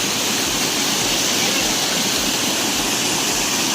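Pochera waterfall in Adilabad, a strong flow heard as a dense, steady roar of falling water, loud and unbroken from start to finish, with no pauses or distinct individual sounds.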